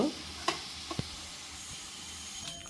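Hot oil in a pan on a home stove, ready for frying chana and urad dal, gives a faint steady hiss with a few soft ticks and pops; no talk.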